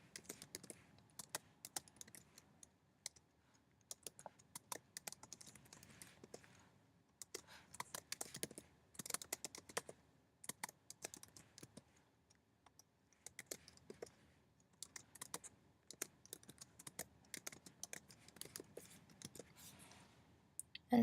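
Someone types on a computer keyboard in quick, quiet bursts of clicking keystrokes separated by short pauses, close up and soft, with no voices.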